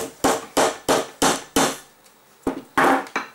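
A hammer taps sharply on a hard surface while preparing a watercolour painting support, about seven crisp strikes in a fairly regular rhythm with a brief pause before the last few.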